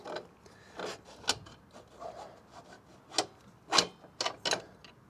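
A wrench works loose a bolt on a Honda CB125F motorcycle during chain removal, giving a series of faint, irregular metallic scrapes and ratchet-like clicks, close but quiet, with no talking.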